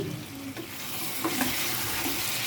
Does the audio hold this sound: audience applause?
no